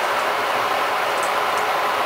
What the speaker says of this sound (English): that's my kettle boiling right beside the camera